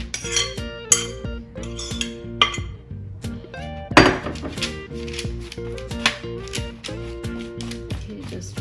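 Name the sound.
potato wedges being transferred onto a metal baking tray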